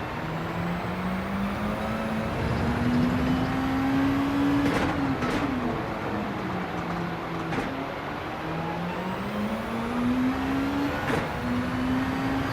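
A Gr. 2 race car engine held at full throttle in Gran Turismo 7 at Interlagos, a loud continuous drone rising in pitch, with a few quick dips and gearshift blips along the way.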